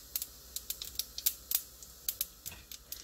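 Mustard seeds, cumin and urad dal spluttering in hot oil for a Tamil fish kuzhambu, giving a string of sharp, irregular pops and crackles close by with no talk.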